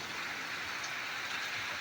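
Steady heavy rain pouring down outside a utensil shop in Fatehgarh Churian, Punjab, a dense even patter with no pauses, heard from close by at moderate volume.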